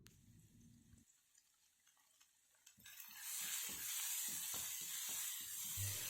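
Sliced onion and curry leaves hit hot spiced oil for a vegetable kurma, a faint quiet start giving way to a loud, steady sizzle with repeated stirring scrapes in the pan.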